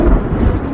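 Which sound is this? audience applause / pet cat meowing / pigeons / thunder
thunder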